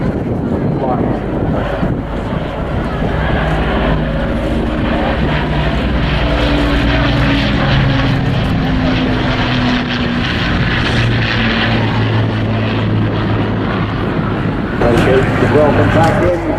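Spitfire propeller aircraft flying at an airshow, a loud droning engine roar with shifting pitch, close and continuous with wind buffeting the microphone, while an announcer speaks over it.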